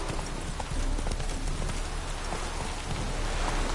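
Roach the horse galloping in a PS4 game during a rainstorm, hooves drumming in a steady rapid rhythm beneath a dense wash of pouring rain.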